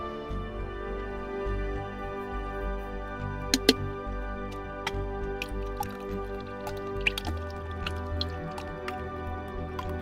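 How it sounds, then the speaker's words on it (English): Coffee poured from a thermos cup into another cup, a faint trickling stream with scattered wet drips and squishy splashes throughout, close but quiet, with no voices. "I promise you it's the sound of coffee from my thermos cup being poured into my cup."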